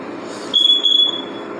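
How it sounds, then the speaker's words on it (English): A thin, high electronic beep sounds for about half a second over a low background hum, then cuts off. "So I'm going to let the alarm keep going off while I'm talking."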